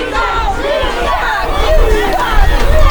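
A wrestling crowd at a Pinfall Wrestling Association show jeers Raven Black, a loud dense babble of shouting voices that swells toward the end.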